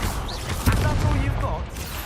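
Incendio fire spell cast during Hogwarts Legacy combat: a dense, roaring burst of crackling blasts with rumbling low impacts and game effects, under a voice.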